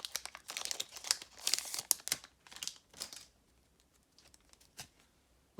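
Plastic wrapper of a Pokémon card booster pack being torn and crinkled, close crackling bursts that grow sparse and quieter toward the end.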